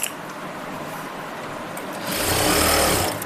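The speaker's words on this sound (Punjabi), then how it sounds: "ਇੱਕ ਸਿਲਾਈ ਇਹਦੇ ਸੈਂਟਰ ਦੇ ਵਿੱਚ ਲਗਾ ਲੈਣੀ ਹੈ" A sewing machine stitches a centre seam on palazzo trousers, running with a steady whirring drone that speeds up and grows louder for the final second before slowing.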